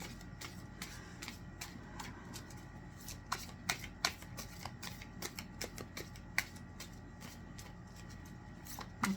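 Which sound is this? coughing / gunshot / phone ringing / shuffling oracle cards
shuffling oracle cards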